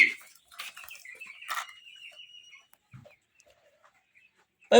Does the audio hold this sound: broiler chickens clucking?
yes